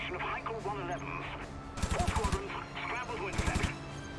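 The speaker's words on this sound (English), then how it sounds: "Kind of fun shooting this machine gun." Machine-gun fire from the flight combat video game IL-2 Sturmovik: Birds of Prey on PS3, heard as two loud rapid bursts over steady game engine drone, with someone talking through the quieter stretches.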